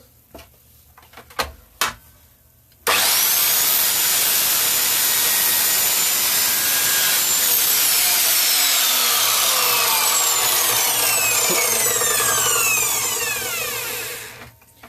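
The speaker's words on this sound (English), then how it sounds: "power tools going on again, so mind your ears" Loud, steady whine of a power tool cutting or shaping a wooden trophy, running continuously for about twelve seconds before winding down, preceded by a few knocks and clatters on the workbench.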